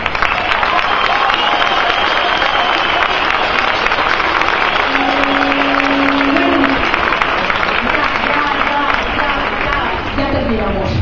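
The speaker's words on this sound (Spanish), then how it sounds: "el aplauso es para todos nosotros" A crowd at a street protest rally in Donostia claps loudly and continuously, with cheers and shouts mixed into the dense applause.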